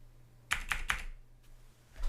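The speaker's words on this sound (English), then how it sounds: "Then just use my arrow keys to" Three quick clicks of arrow keys pressed on a computer keyboard while positioning a text box in Word, close and crisp, followed by a softer fourth tap near the end, no talking.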